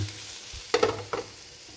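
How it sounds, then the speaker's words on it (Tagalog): Garlic frying in hot oil for chicken afritada, with a low sizzle under a few sharp stirring scrapes and clatters near the middle of the short stretch. "gigisa natin yung bawang"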